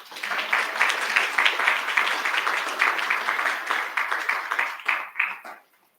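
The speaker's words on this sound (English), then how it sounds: "Would you give them your applause?" Chapel congregation applauding together, a steady wash of many hands clapping for several seconds that breaks into a few scattered claps before stopping.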